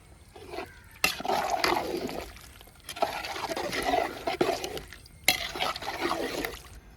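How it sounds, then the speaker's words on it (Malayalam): Washed rice is stirred into a boiling pot of chicken kabsa, with wet churning and sloshing in several bursts, broken by sharp clacks of a spoon on the pot. "ഇളക്കി കൊടുക്കാം നമുക്ക്"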